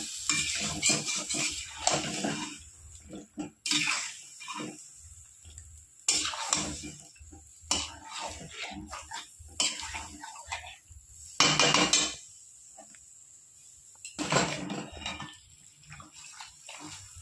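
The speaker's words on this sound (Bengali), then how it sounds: "এবার অল্প আঁচে আমি মাংস ভালো করে কষিয়ে নেব।" Chicken cooks on low heat in a pan while a utensil stirs and scrapes it, producing repeated bursts of scraping and clattering with soft sizzling between strokes.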